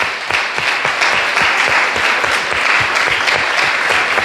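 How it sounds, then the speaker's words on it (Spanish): A church congregation applauds loudly and steadily, with many hands clapping in a dense, continuous wash that holds an even level throughout, no voices standing out. "Dale un aplauso al Señor."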